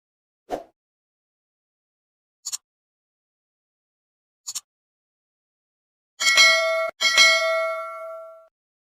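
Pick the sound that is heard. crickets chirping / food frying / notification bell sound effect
notification bell sound effect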